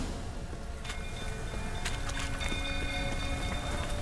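Steady rain falling in a video game scene at a burning stable, a faint, even hiss of drops with a few light clicks throughout.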